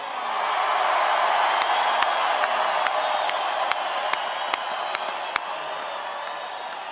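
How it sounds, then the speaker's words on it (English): A large rally crowd in Colorado Springs applauds and cheers, a loud, sustained roar of clapping and voices with scattered sharp claps throughout. "Give them another round of applause."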